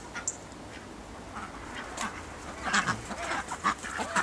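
Ducks quack repeatedly in winter weather at a suburban backyard smallholding, with several birds calling in short irregular bursts over a steady outdoor background hiss, moderately near.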